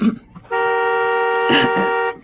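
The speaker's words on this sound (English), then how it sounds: "when I inhale, my titty make the horn honk" A single sustained car horn blares loudly and steadily for over a second, with faint rustling around it.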